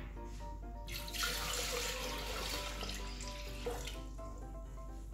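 Water streams into a food processor jug in a kitchen for about three seconds, a loud rushing pour over a steady low hum from the appliance, with no talking.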